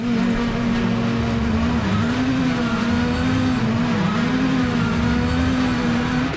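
WRC rally car driven aggressively to warm its tyres and brakes, a loud close engine drone rising and falling with revs, with gear-change dips and rough road noise underneath.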